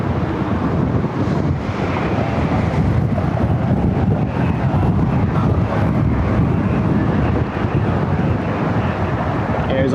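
Steady jet engine roar of an Embraer E175 regional jet holding short of a runway at Cleveland Hopkins airport, blended with heavy wind buffeting the microphone.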